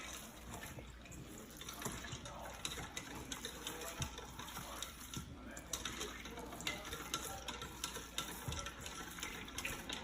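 Meatball mixture with shredded mozzarella and Parmesan cheese being mixed by hand in a bowl, a continuous wet squishing and stirring with soft irregular thuds, fairly quiet and steady with no talking.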